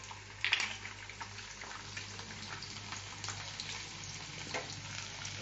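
Garlic hits hot oil in a wok, bursting into a brief loud crackle and then settling into a quiet, steady frying sizzle.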